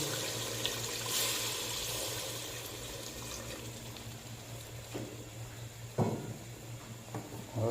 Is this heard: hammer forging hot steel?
no